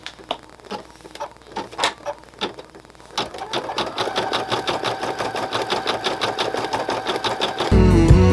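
An embroidery machine stitches a placement outline on tearaway stabilizer for a mouse-ears headband, giving a steady, fast mechanical needle rattle that starts after a few scattered clicks and runs continuously, close and moderately loud.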